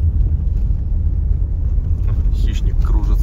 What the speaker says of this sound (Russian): Едем по полевой дороге, по колее.